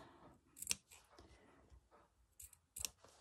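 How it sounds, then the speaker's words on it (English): Sharp scissors snip embroidery thread just above fabric, two distinct crisp cuts spaced about two seconds apart, close and quiet over a soft background. "Taking care not to snip the fabric underneath."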